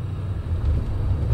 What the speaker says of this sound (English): You will see, you will hear how the whole truck will shake because that low profile.